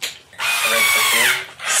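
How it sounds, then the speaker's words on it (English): Cordless drill driving a screw, a loud whining motor burst that runs steadily for about a second then slows and dips in pitch, with short bursts before and after. "This is my handy drill."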